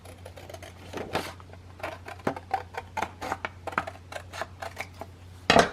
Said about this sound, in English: I'm going to cut the top and the bottom tabs off